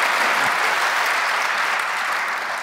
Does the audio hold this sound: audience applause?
yes